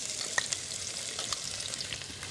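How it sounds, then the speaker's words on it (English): Onions, a little ginger and crushed garlic hit hot oil in a Kerala kitchen, giving a steady, close sizzle with faint crackles and a couple of small pops, moderately quiet and without speech. "the oil is hot. I'll be putting some onions, a little bit of ginger. And some crushed garlic"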